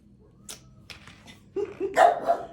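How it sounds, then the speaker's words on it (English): A few dogs bark and yip at a moderate distance, starting with scattered sharp barks and building to a louder cluster of overlapping barks near the end, with no talk. "there goes the doggies"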